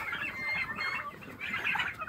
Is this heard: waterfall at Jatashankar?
no